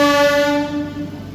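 An 8-coach MEMU local train running on the Howrah–Purulia line sounds its horn loudly and steadily, a sustained tonal blast that fades slightly toward the end, with no talking.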